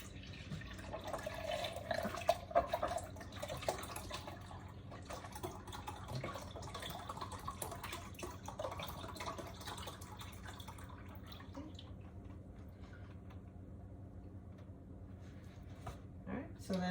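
Bone broth pours from a 32-ounce box into a measuring cup in a steady liquid stream with some dripping, moderately close, while people talk.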